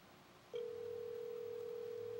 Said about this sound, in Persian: من میخوام دوباره به ایشون تلفن کنم